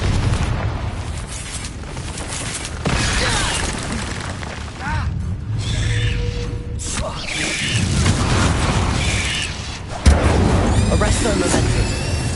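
Fire spell cast in a wizarding game, a dense roaring burst of flame and rumble sustained across the clip with a sharp flare near the end, over busy game ambience and background music.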